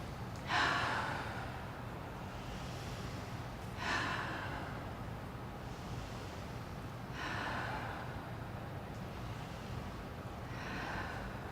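People take slow, deep breaths in a guided breathing exercise, with four loud, drawn-out breaths spaced about three seconds apart against quiet room tone, and no talking.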